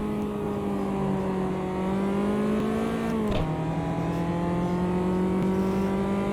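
Race car engine in the Automobilista 2 racing game, a loud steady drone that dips sharply at a single gear change before climbing again under acceleration.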